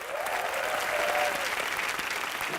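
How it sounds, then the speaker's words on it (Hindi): A television studio audience on an entertainment show gives loud, sustained applause, a thick even roar of clapping with a faint voice briefly riding over it. "जोरदार तालियां रिचा के लिए।"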